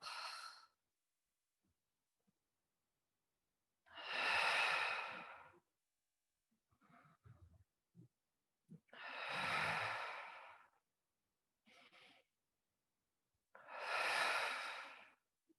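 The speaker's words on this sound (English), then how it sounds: "Inhale down, exhale up." Slow, deep breathing during heel lifts on a foam roller: long, airy inhales and exhales alternate every few seconds, with small shuffling sounds between them.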